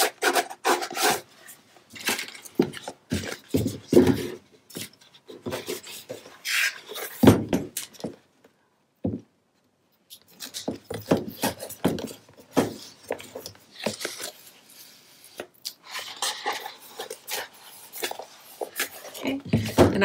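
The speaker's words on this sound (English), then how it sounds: "I'm going to burnish this into place, and then I'm going to start lifting and taking off the rest of the backing" Paper being burnished into place on a Graphic 45 tea-party cover, then adhesive backing peeled away, giving rough rubbing and scraping strokes with a brief pause, with some talking mixed in.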